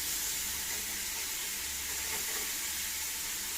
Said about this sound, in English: now we're browning our chicken